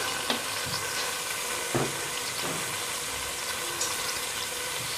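Shallots sizzle in a pan of hot oil for a seed sauce, a dense, steady frying hiss with occasional soft stirring knocks, close and continuous.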